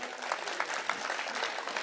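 An audience at a Hindi poetry recital gives a brief burst of steady, even applause at moderate volume, with no clear speech on top.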